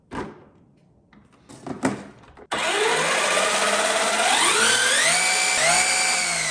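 A Traxxas Ford Raptor remote-control truck body is pushed down onto its chassis with a few sharp plastic clicks and knocks. A loud, rising electric motor whine then takes over and continues to the end.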